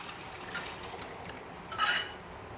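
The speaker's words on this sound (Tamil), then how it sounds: "இந்த புளி கரைசல், அது நல்லா கலந்து விட்டு இந்த வெங்காயம் தாளித்ததில் கொட்டிக்கலாம்" Tamarind water pours into a pan of tempered onions for paruppu urundai kuzhambu, a soft liquid splash and trickle lasting a couple of seconds, fairly quiet with a brief stronger gush near the end.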